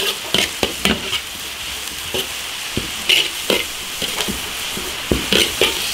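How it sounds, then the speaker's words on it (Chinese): Green peppers are stir-fried in a wok with garlic, ginger, Sichuan pepper and dried chilies, giving a steady loud sizzle broken by repeated scraping clanks of the spatula against the iron. "下点青椒， 把青椒这个辣味儿给它炒出来。"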